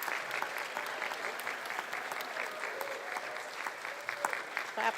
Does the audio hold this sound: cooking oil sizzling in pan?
no